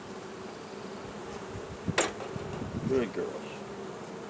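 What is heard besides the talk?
honeybees buzzing at a hive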